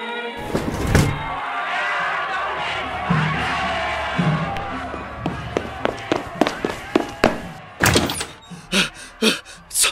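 A restless crowd murmurs and clamors in the street, followed by a run of sharp thuds and knocks.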